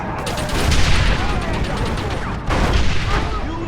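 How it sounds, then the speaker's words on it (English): Cannon fire during a shootout at the gates of El Presidio in Red Dead Redemption, booming blasts over dense rattling gunfire and battle noise, with a sharp new burst midway. "Use the cannon!"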